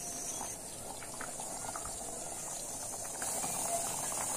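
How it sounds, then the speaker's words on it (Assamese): Dal makhani simmers in a kadai on the stove, giving a faint steady bubbling hiss with soft popping, heard close and alone. "এতিয়া মই অলপ সময় ইয়াক তেনেকৈ কেৰাহীত বইল হ'বৰ কাৰণে থৈ দিম।"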